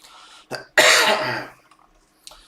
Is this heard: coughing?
yes